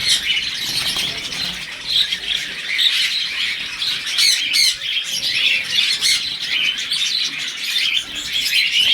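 Adult Kissan belly lovebirds on a farm keep up dense, shrill chirping and squawking, many birds calling at once and close, with no talk over them.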